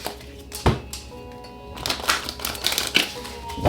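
A tarot deck is shuffled nearby in quick tapping, riffling bursts, with a faint tonal hum underneath and a few sharp card knocks.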